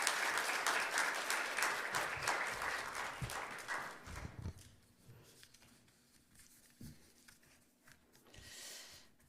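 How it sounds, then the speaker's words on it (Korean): Church audience applause welcoming a missionary to the stage at a Wednesday prayer service, a moderately loud burst of clapping that fades after about four seconds into quieter room noise and shuffling. "우리 선교사님 나오실 때 환영의 박수로 맞이해 주시면 좋겠습니다"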